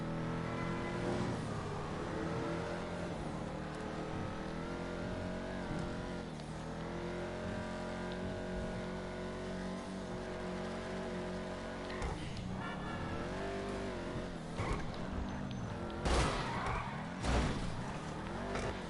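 A modified Vapid Dominator GTX muscle car in GTA Online revving and accelerating hard, its engine droning loudly and continuously with shifting pitch and brief tyre squeals near the end.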